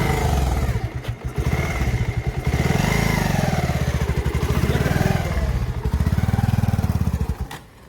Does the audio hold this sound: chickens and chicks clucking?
no